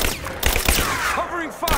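Rapid covering gunfire crackles in Rise of the Tomb Raider during a prison break, dense overlapping shots close by, mixed with shouting voices throughout.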